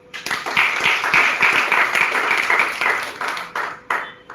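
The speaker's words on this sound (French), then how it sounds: "que je vous prie d'applaudir." At a journalism training closing ceremony, an audience claps for the journalism teachers: a brisk, fairly close burst of clapping that swells quickly and then trails off within a few seconds.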